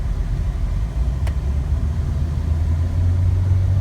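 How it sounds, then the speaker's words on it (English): A Jeep engine rumbles steadily from inside the vehicle on a test drive, a low continuous drone that swells slightly near the end, with no talking. "We're going to go ahead and take this thing on a quick test drive."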